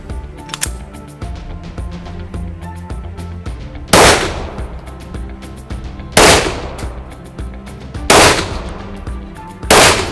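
Four sharp gunshots ring out at roughly two-second intervals during a target-shooting drill, each a loud crack with a decaying echo, over faint mechanical clicks and handling noise.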